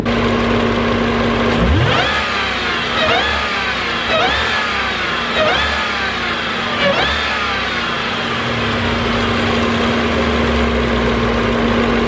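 Jeep Grand Cherokee Trackhawk with a 6.2-litre supercharged V8 running loud and close, blipped through a string of repeated revs with the supercharger whining over a steady idle.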